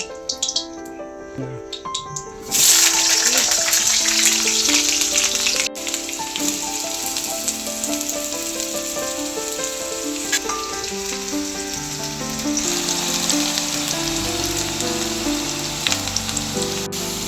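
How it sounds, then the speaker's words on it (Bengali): Potatoes drop into hot mustard oil in a pan, and a loud, steady sizzle starts suddenly and keeps going under what sounds like background music. "আলুগুলো লাল লাল করে ভাজা হয়ে গেছে"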